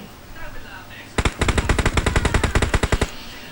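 Rapid bursts of automatic gunfire, loud and close, a steady rattling string of shots lasting about two seconds in a video game.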